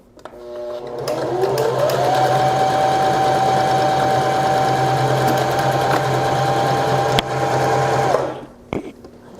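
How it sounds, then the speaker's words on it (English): Janome HD-series sewing machine stitching an automatic buttonhole, a loud close steady motor whir with rapid needle clatter that ramps up, runs evenly for about six seconds, then stops with a few clicks. "hit the gas, and let the machine do the whole thing for you"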